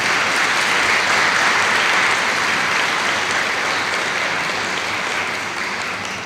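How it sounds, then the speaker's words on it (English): Sustained applause from a banquet audience at an academic excellence award ceremony, honoring culinary students: dense, even clapping that stays loud throughout and eases slightly near the end, with no voices over it. "Nice round of applause for them."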